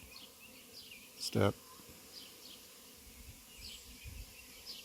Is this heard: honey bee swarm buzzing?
yes